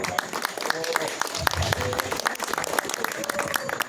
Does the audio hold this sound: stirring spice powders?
no